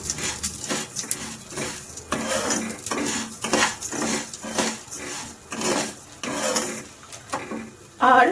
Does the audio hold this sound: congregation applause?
no